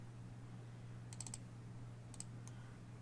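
Computer keyboard keys struck while typing an npm install command: two short clusters of faint clicks over a steady low hum, with no voices.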